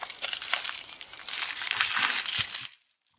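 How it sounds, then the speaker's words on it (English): Taped bubble wrap crinkles and tears as it is peeled off a VitTuned 72mm supercharger inlet, a close, steady rustling and crackling for a few seconds that stops abruptly into silence. "there's bubble wrap. Here's the bubble wrap. So it's taped on"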